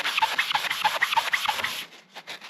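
Rhythmic back-and-forth sanding on an old planer base, about ten quick scraping strokes close up, then stopping and trailing off into a few faint light rubs.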